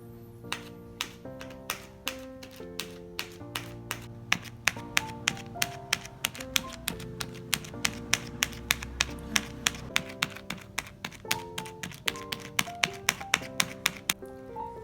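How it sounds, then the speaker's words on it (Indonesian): A toothpick jabs holes in plastic bags of soybeans for tempe, making a steady run of sharp, crisp little taps, close and fairly quiet, with no talking. "lalu kita tusuk-tusuk memakai tusuk gigi"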